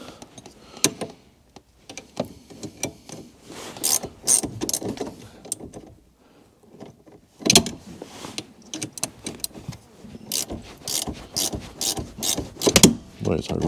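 A locking nut is tightened on the pivot shaft of a car pedal extension fitted with linear bearings, giving close, irregular metallic clicks and ratcheting bursts in uneven clusters, with a brief pause midway.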